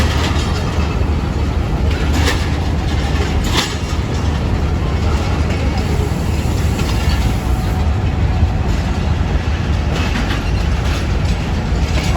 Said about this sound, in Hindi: एक शहजादी रेलगाड़ी तेज़गाम एक्सप्रेस लाहौर जंक्शन से निकल रही है।